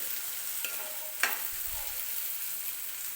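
Chopped tomato fries in oil in a pan for a cabbage sabzi, a soft, steady sizzle with one sharp spatula scrape in the middle, close and unaccompanied by talk.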